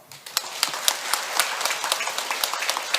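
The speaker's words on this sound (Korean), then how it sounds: "큰 박수로 좀 맞이해 주시기 바랍니다" A seated audience claps to welcome the monk Ilgam Seunim to the dharma seat at a Seon meditation session. The clapping is moderately loud and steady, with individual claps standing out sharply and nobody speaking.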